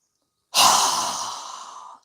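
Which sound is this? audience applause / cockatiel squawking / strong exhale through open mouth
strong exhale through open mouth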